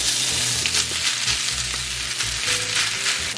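Cooked rice fries in melted butter in a pan, pressed down flat to form a grilled rice-ball sandwich, giving a loud, constant close sizzle with low rumbling underneath and no voices.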